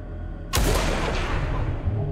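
Gunfire from a weapon in the video game Blood West: one sharp, loud shot with a long rumbling decay and echo trailing behind it.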